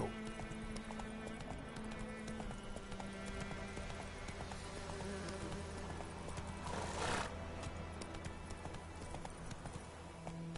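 Geralt's horse Roach in Witcher 3 gallops with rapid, quiet hoofbeats on the ground, with a short whoosh of wind midway.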